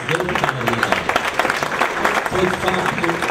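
Audience applause fills a community hall during a Portuguese folk group's event, a steady dense clapping throughout with voices mixed in underneath.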